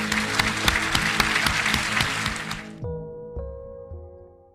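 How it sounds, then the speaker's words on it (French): Applause for philosopher Michel Serres at the close of a debate, a thick burst of clapping that cuts off abruptly partway through, leaving low sustained tones that fade out. "Nous allons clore maintenant le débat et vous applaudir en vous remerciant"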